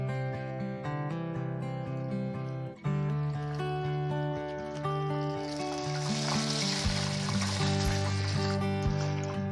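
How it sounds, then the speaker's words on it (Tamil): Chicken lollipops deep-frying in hot oil in a kadai, a steady sizzle and bubbling that swells midway as more pieces go in, close and continuous with strong tonal music playing over it. "இனி வந்து நல்லா பொரிச்சு எடுக்க போகிறோம். ஆயில் நல்லா சூடாயிடுச்சு."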